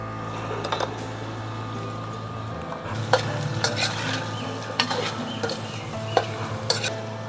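Spiced stuffed bitter gourd and potato curry stirred in a pan over a wood-fired clay stove, with a steady low sizzle beneath scattered utensil scrapes and clinks that come several times across the stretch.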